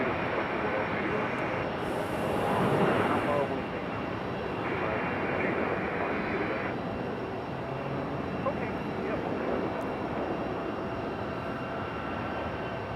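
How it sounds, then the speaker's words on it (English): A Boeing 737 jet at RDU airport makes a loud, continuous broadband roar that peaks briefly early on and then holds steady, with faint voices underneath. "We're gonna skip the CRJ and go down here for our 737."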